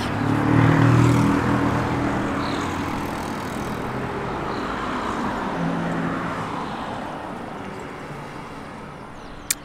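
Road traffic passes by a home garden in a steady, broad wash of car noise, one vehicle swelling loudest early on before the sound eases to a constant distant hum.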